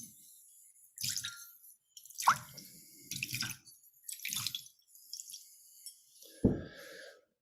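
Hands are washed with water poured from a bowl, giving scattered splashes and drips in short separate bursts across a quiet background, close by and alone.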